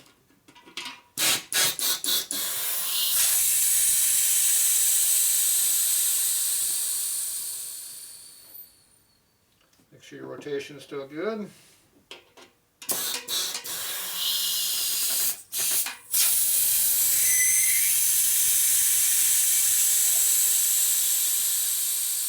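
Compressed air hisses loudly from a nozzle into a motorcycle inner tube on a Harley Evo chopper in long sustained bursts, broken by a pause with a brief spoken line, then resuming in shorter blasts and a final steady stream.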